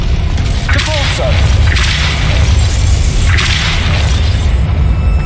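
The Depulso force spell cast in Hogwarts Legacy: three forceful whooshing blasts in turn over a loud, steady rumbling game ambience.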